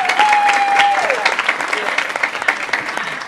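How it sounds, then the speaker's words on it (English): A convention crowd at an Attack on Titan Q&A panel at Magic City Comic Con applauds a staff member, with loud, sustained clapping and a few cheers throughout. "Can we give her a round of applause?"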